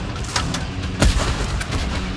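Gunfire in the tank video game Tank Force, a few muffled booming shots over a constant engine-like rumble, with one heavier blast in the middle.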